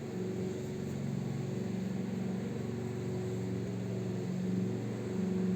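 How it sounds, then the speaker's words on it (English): Steady low motor drone of a lawnmower droning continuously outside, fairly faint and muffled, with no other sounds over it. "Sorry about the lawnmower."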